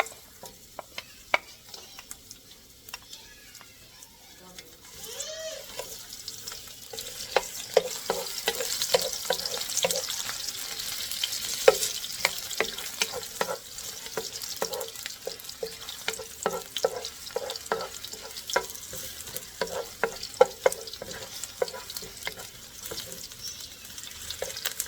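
Garlic frying in hot oil in a pan for a Filipino pineapple adobo, a steady close sizzle that swells after the first few seconds, with occasional stirring clicks and no talk.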